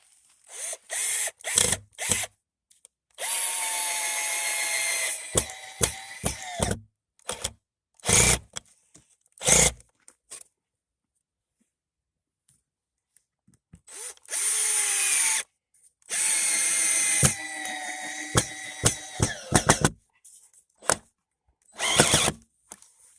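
A Black & Decker 20-volt cordless drill drives large screws into wooden poles in several long whirring bursts, separated by short clicks, handling noise and gaps of silence, loud and close.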